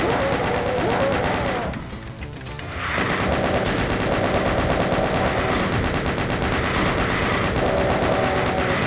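Chain gunner enemies in a video game firing nonstop rapid bursts, a dense loud mechanical rattle that briefly dips before resuming and continuing to the end.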